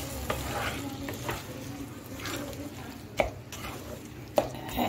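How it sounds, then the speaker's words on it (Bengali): Pineapple stirred in melted sugar and milk in a pan, a soft bubbling sizzle with scraping strokes and two sharper spatula knocks, quiet and close. "এখন আমি নেড়ে চেড়ে আনারসটাকে নরম করে নেব।"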